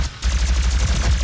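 Secondary-fire gunshots from a weapon in the DOOM beta, a fast run of loud, close blasts with a steady pulsing rhythm that starts abruptly after a brief quiet moment.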